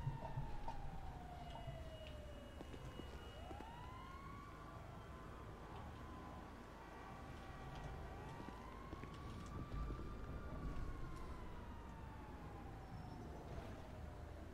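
Wailing sirens rise and fall in long sweeps over a steady low rumble, moderately loud and continuous, with no one talking, in the video game GTA 5.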